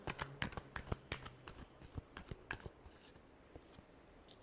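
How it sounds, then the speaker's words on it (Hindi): Tarot cards being shuffled by hand, a run of crisp riffling flicks and taps, busy at first and thinning toward the end, close and fairly quiet with no talking. "Last shuffle."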